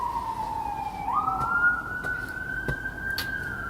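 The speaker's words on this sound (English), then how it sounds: "Sirens are really active today here in Brooklyn." An emergency vehicle siren wails through a Brooklyn street, rising in pitch and then holding a steady tone at moderate distance, with faint traffic and a few sharp knocks in the background.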